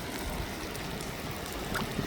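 Floodwater rushes and burbles steadily onto a road in a continuous, fairly faint flow, with no voices over it.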